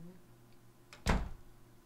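A door opens in the Tesla Effect adventure video game with one sharp, loud thunk and a short creaking rattle, preceded by a faint scrape over quiet background hum.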